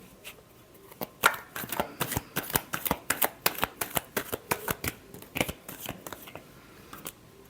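Tarot cards are shuffled by hand in a rapid run of crisp, papery slaps and riffles, close and fairly loud, for about six seconds with no talking.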